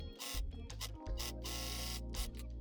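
Serger overlocking seams on stretch knit jersey while sewing a top, a steady close mechanical whir with rapid stitching clatter that starts and stops in short bursts, no voices.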